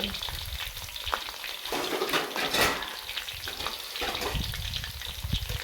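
Dried squid frying in hot oil in a pan over a gas flame in a home kitchen, a steady loud sizzle and crackle with stirring scrapes and bursts of spattering, no voices.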